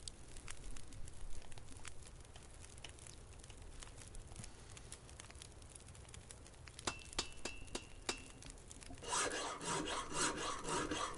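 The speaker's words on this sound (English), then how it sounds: "I don't know why it sounds like I'm using a hacksaw" Rasping, rubbing strokes of crafting arrowheads from scrap metal in The Long Dark, resembling a hacksaw filing metal, steady and close for most of the stretch, then a denser, brighter scraping burst near the end.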